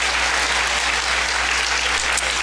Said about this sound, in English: Everyone, clap your hands if you believe that.